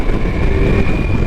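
Ducati Multistrada V4S Pikes Peak motorcycle engine cruising in sixth gear around 60 mph, a steady, loud mid-range drone blended with continuous wind rush, with no talk over it.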